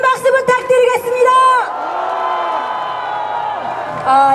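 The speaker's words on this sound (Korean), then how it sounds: "큰 박수 부탁드리겠습니다" Rally crowd cheering and applauding at a political gathering, a loud burst of whoops and shouts that settles into a sustained roar of clapping and crowd noise, then swells again near the end.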